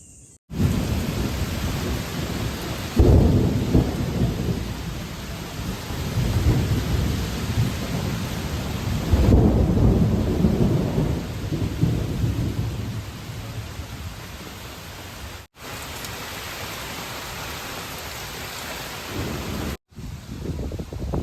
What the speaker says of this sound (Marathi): मंडळी पावसाने अचानक सुरुवात केली आहे